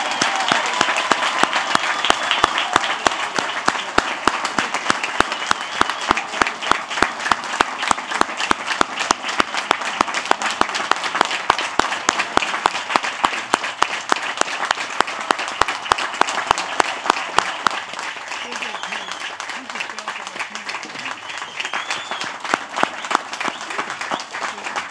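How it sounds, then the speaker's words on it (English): A large crowd at the 2018 Adrian College spring commencement applauds the graduates with sustained, even clapping for about eighteen seconds, which then fades into lighter scattered claps. "Please congratulate the graduates with a well-deserved round of applause."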